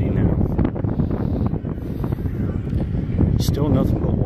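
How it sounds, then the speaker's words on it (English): Wind sweeping across the open upper deck of a Grand Princess cruise ship at sea, a constant rushing roar under a person talking. "It's getting windy now."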